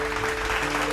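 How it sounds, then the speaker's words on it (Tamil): Congregation applauding at an evening church service, a dense steady wash of clapping filling the whole second without pause, fairly close and loud. "கைதட்டுங்க"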